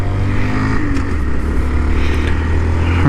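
A 2019 Honda Monkey small motorcycle being ridden, its little engine droning loudly and steadily up close, with a shift in pitch as it changes speed.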